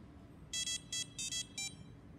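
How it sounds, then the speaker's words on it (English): A piezo buzzer on a Maker Uno, a $6 Arduino Uno compatible board, beeps out a short tune as five or six bright, evenly spaced tones, clear and close over a quiet background. "it run the buzzer"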